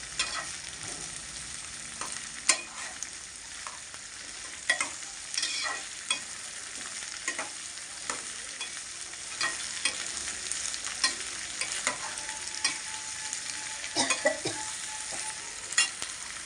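A spatula scrapes and tosses ivy gourd and peanuts frying in a pan. Steady sizzling runs under irregular, fairly close stirring clicks, with no talking.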